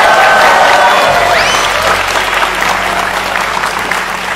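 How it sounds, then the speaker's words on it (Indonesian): Enthusiastic applause from a sizable audience fills the whole stretch, loud and continuous, with a brief voice and some music heard early on beneath it. "Luar biasa, tepuk tangan untuk Pak Edi Supono"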